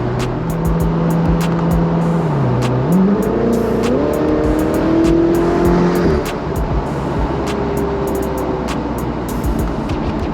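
Ferrari 488 Spider with a dual-clutch gearbox accelerating hard, engine note rising in steps with near-instant upshifts, loud and close throughout with no talking.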